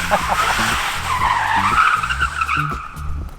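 An EV-converted classic Datsun 240Z slides on a wet road, its tires squealing in wavering, repeated chirps close by, with a faint hum beneath and no voices.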